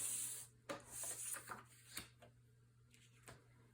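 Cardstock being scored along a line, several faint scraping rubs and light taps close by against a quiet background hum, with no talking.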